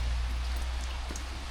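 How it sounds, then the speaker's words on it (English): Rain falling outdoors on a Saturday morning, a steady soft hiss with occasional drips, close and even throughout, with no voices. "look, it's raining"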